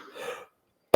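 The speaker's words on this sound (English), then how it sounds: "I apologize for my throat here and the coughing." A single sharp, loud cough bursts out right at the end, following a half-second of faint murmur and then silence, from a participant in a geology debate.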